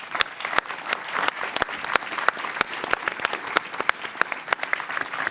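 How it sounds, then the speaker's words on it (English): Audience at a European defence conference session gives a round of applause for the panelists, a steady wash of many hands clapping with sharp individual claps standing out, continuous throughout and fairly close. "give a round of applause for what I think is a brilliant set of panelists"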